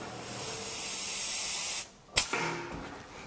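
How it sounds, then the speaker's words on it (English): A pneumatic squeeze riveter squeezes a single rivet on a fender panel: a steady air hiss drops out, then one sharp burst of air snaps, followed by a short fading hiss. "I just go ahead and I squeeze that rivet"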